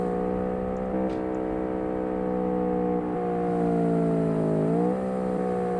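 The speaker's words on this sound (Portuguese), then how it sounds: "Eu tô acelerando sem parar." A jet-equipped car in a video game accelerates up a ramp with a sustained, buzzing engine drone that holds steady, then dips and rises again near the end, loud and continuous with no talk.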